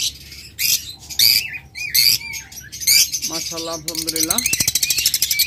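A pair of violet opaline budgerigars chirps and squawks in quick, bright bursts close by, while someone speaks over them.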